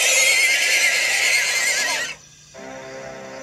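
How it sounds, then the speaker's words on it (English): A horse gives one loud, close whinny for about two seconds. It cuts off abruptly and is followed by a short lull, then a fainter tonal sound. "a horse's whinny tore through the air"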